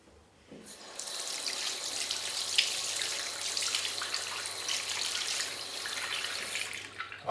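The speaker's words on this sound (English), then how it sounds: "Rinse the brush. A bit more soap." A paintbrush rinsed under a running tap, a steady close splash of water that starts after a brief quiet moment and runs continuously, with faint drips and small shifts as the brush moves through the stream.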